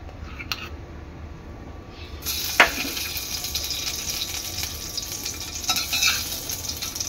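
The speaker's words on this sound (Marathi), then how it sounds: "आता इथे आपली कढई चांगली गरम झालेली आहे। त्यामध्ये टाकणार आहे मी तूप।" Ghee melts and sizzles in a hot kadhai, a steady close frying hiss that swells louder after a couple of seconds, with a brief clink of a utensil and no talk.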